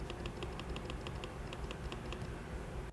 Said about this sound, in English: So here's what the regular clicking sounds like.